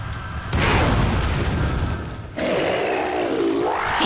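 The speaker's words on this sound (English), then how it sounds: "Now, you rocket launcher him." A rocket launcher blast in Resident Evil 4 hits with a heavy booming explosion followed by a long rumbling roar, then a second surge of blast noise with a creature's wail rising over it.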